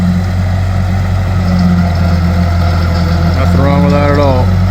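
A 1954 Ferguson TO35 tractor in work trim, cutting with a bush hog on a homestead, runs with a loud, steady low engine drone, and someone speaks briefly over it near the end.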